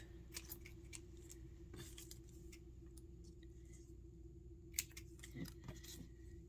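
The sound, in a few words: scissors cutting paper strips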